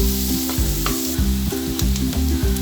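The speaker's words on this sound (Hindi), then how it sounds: "इसमें मैं प्याज डालूंगी और इसको 1 मिनट तक फ्राई करूंगी।" Onion sizzles in hot vegetable oil in a kadai, a close, steady crackling fry with a low rhythmic hum running underneath, no voices present.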